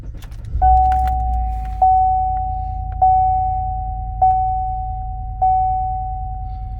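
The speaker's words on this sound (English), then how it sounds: "let's go ahead and turn the truck on" Chevrolet Silverado or GMC Sierra truck started and idling, a low engine rumble with a steady chime tone ringing and a faint click repeating about every second.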